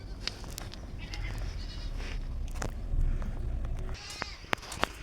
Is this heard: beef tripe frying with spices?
no